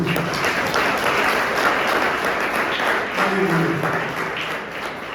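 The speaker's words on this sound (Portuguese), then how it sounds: "Aplauda o nome de Jesus aí" A church congregation applauds in praise, a sustained wash of clapping from many people with a voice speaking over it.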